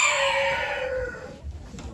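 An ornamental rooster at a poultry auction in Ankara crows loudly and close by, one long drawn-out call that trails off, followed by a brief rustle.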